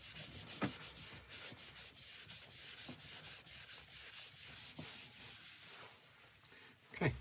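Turned wooden wings are polished by hand with Yorkshire grit, a soft continuous rubbing and scuffing with a few sharper scrapes, close and fairly quiet, with no talking.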